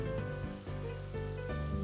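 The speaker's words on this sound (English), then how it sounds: "It's raining buckets out there if you haven't noticed." Heavy rain in the visual novel Katawa Shoujo pours steadily, a dense, constant patter of rain on a surface under a soft, sustained musical backdrop, with no talk.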